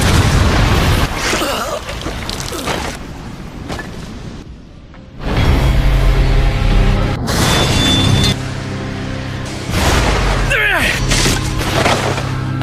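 Loud booming blasts erupt in bursts, with rumbling crashes and debris-like noise between quieter gaps, in a Hindi-dubbed anime fight scene.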